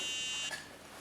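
A micro:bit alarm buzzer on a homemade safety safe, a harsh steady electronic tone that cuts off about halfway, faint and close.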